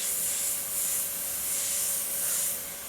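An airbrush sprays paint onto a Terminator endoskeleton model as a soft, steady hiss that swells and eases slightly over a few seconds, faint and close, with no voices.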